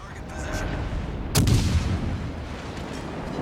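A single heavy gun blast from the rear turret of the Vladivostok battleship in World of Warships: Legends booms out, a sharp broadband burst followed by a rumbling tail over a steady game-audio bed.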